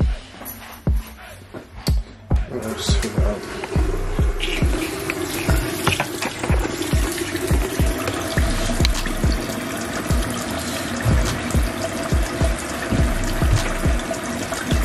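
Tap water runs into a large jug, a steady splashing pour with irregular trickles and clunks, close and fairly loud.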